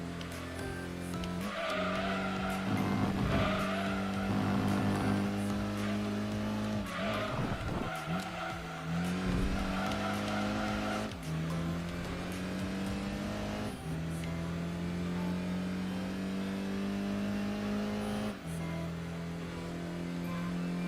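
Race car engines from Gran Turismo 2 drone steadily at shifting pitches, with gear changes and repeated tire squeals as cars battle around the track; loud and continuous, with no talking.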